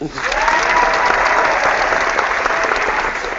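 A crowd applauds throughout, a dense, steady wash of clapping that rises quickly at the start and stays loud.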